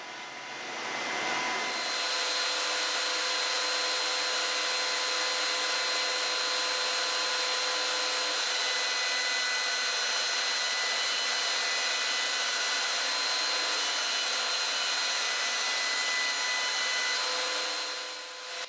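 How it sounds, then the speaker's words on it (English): A router cutting grooves in hardwood rails and stiles for raised panel cabinet doors, a loud, steady high-pitched whine that starts abruptly after a short pause and holds evenly for the full run. "I cut the grooves on all the pieces, rails, and stiles"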